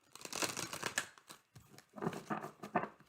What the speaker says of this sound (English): let's give these another shuffle